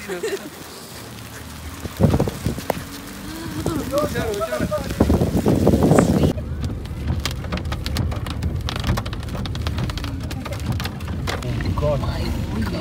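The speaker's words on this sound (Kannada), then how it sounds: "ಮಳೆ ಬಂತು." Heavy rain in Ooty pours down continuously, drumming hard on a surface, with a faint rumble beneath and voices speaking now and then.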